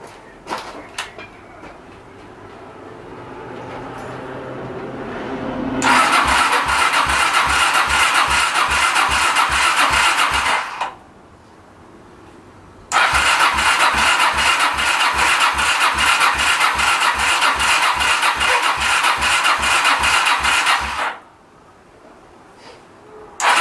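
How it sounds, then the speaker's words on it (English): A Honda VT700 motorcycle without a choke cable is cranked, then its engine catches and runs loudly with a pulsing beat. It cuts out, starts again after a short pause and runs for several more seconds before stopping. "I'm going to try and start it, but the thing is I don't have a choke cable, so it might be hard to start"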